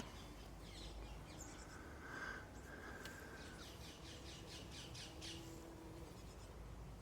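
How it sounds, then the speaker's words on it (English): Small birds squawking and chirping in repeated short bursts, moderately close, over a steady outdoor background hum. "So there's the little birds."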